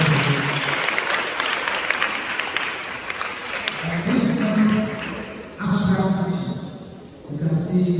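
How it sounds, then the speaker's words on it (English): Audience applause for facilitators at a polyclinic World Menstrual Hygiene Day event, broad clapping filling the room for several seconds with voices and chatter mixed in, pausing briefly before more clapping. "Let's clap for our facilitators."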